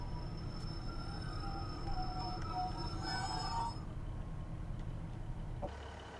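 A Class 150/2 diesel unit slowing to a halt at Trowbridge station in Train Simulator 2018, a steady low engine rumble with a brief squeal of brakes before the motor quiets.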